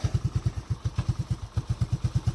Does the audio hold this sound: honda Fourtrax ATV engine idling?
yes